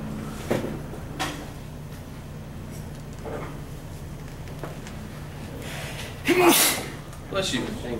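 One sudden, loud sneeze bursts out close by during a classroom math lecture, set against a quiet room with a few soft bumps and shuffles.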